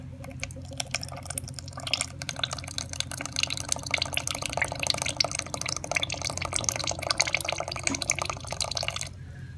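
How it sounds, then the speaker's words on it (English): Evaporated milk poured from a can into banana pudding cake batter, a steady close liquid trickle with faint drips running continuously, with no talk over it. "I'm gonna add some more milk."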